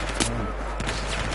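Gunfire in the video game Battlefield 4, with a couple of sharp shot cracks in quick succession over a loud, constant wash of battle noise and game ambience.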